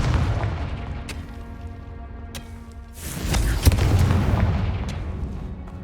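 A Confringo spell in Hogwarts Legacy bursts with a sharp booming explosion midway, preceded by several crisp pops and followed by a swelling rumble that fades out.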